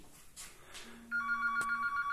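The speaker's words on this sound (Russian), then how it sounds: "Так, секундочку, кто-то у нас тут звонит." A telephone rings in a room while an LG 50UM7450PLA television is being reviewed, its electronic ringtone cutting in partway through as a steady tonal trill that stays loud and unbroken to the end, with no talk.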